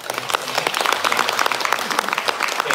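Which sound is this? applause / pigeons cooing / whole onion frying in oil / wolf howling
applause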